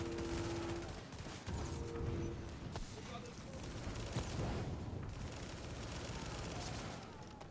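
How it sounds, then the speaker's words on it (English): Gunfire from an SVD sniper rifle in the shooter game Tom Clancy's The Division rattles amid dense, continuous battle noise, with players talking over it. "SVD is the name of the gun"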